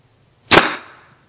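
A slingshot with two layers of gold TheraBand in butterfly style fires a marble into a target, a single sharp loud smack that decays quickly into silence.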